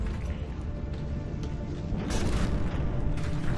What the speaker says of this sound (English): There's a couple of shots fire.